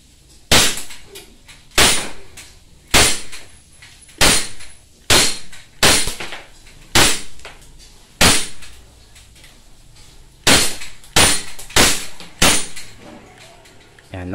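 A Glock 17 airsoft pistol fires semi-auto, giving a dozen or so sharp, loud cracks at irregular intervals of about a second, with brief pauses between strings of shots.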